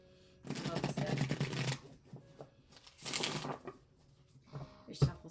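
A Harmony Tarot card deck is shuffled by hand in bursts. Two riffling, papery runs of a second or so come close, then a brief final flick, with a voice talking around them.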